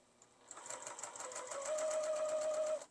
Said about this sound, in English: I'm going to back stitch right here and sew all the way around